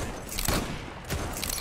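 Rifle fire from a Kar98 in the online shooter Zula: two sharp, loud single shots about half a second apart, each a broad burst with a short decay, over steady game ambience and no talk.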